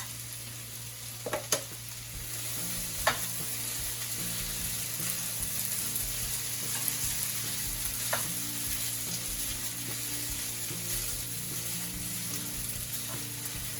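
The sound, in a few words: yakisoba spaghetti noodles frying and being mixed in a pan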